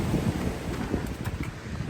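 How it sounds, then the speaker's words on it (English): Steady wind buffeting and rumbling across an exposed mountain ridge trail on the Appalachian route near Cosby Knob, a continuous low roar with gusty swells and no voices. "Ooh, it's windy."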